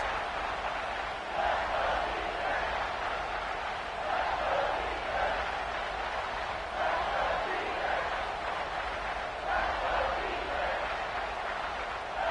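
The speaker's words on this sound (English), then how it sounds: "the noise from this crowd on 3rd and 4" Football stadium crowd at the Red River Rivalry game, a dense roar of thousands of fans that holds steady for the full stretch, with slow swells rising and falling every few seconds.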